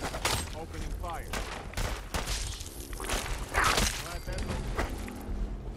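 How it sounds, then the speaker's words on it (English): Rapid bursts of gunfire crack in the video game Fallout 4 near Diamond City. The volleys are loud and close, with sharp repeated shots, whooshes and impacts, and game voices speak briefly between the bursts. "Opening fire."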